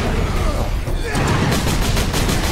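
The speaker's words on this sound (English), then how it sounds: "someone's shooting at us" Bursts of gunfire crackle and boom in the Space Marine video game, rapid loud shots piling up in a chaotic volley, with a voice talking over the shooting.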